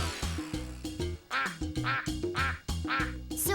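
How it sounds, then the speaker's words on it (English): A duck quacks repeatedly in quick, loud, close bursts, each nasal call sharply separated, with no talking over it. "That's a duck."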